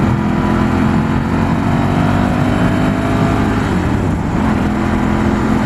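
A Ducati Scrambler 1100 motorcycle pulls hard under acceleration, its loud, continuous engine roar rising with steady wind rush close by, no voices over it.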